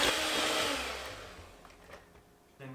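An electric mixer whirs through peppermint cookie dough, loud and steady at first, then easing off and dropping lower before a brief renewed burst at the end.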